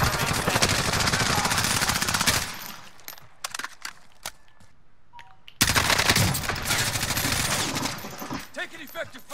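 Call of Duty Warzone gunfire: long bursts of rapid automatic fire, a pause filled with scattered single shots and clicks, then another sustained burst, loud and close, with voices talking now and then.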